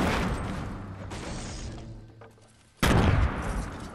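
Grenades going off in Fortnite Battle Royale, a dense rumbling game soundscape that tapers toward silence, then a sudden loud blast near the end with heavy low-end boom.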